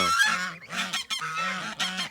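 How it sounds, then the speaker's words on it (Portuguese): Several farmyard geese honk noisily in overlapping bursts, close and loud, with a turkey among the flock; the calls repeat in rapid clusters without any talk. "Daí os gansos ficam fazendo alvoroço"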